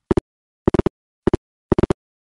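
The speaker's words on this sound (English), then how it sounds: "a real rotary dial sounds like this" Short bursts of sharp clicks in quick groups from a real rotary telephone dial pulsing out digits, with clean silence between each group.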